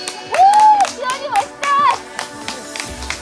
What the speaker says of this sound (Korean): 뜨거운 박수를 받으며 반환점을 돌았습니다.